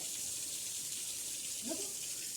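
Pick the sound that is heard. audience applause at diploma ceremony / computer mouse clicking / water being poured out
water being poured out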